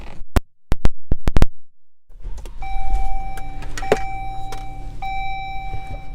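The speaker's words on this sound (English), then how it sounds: "Power moonroof." A 2017 Dodge Journey's power moonroof runs, a steady electric motor whine with a faint mechanical hum inside the cabin, preceded by a few sharp button clicks and ending with a brief change in pitch as it moves.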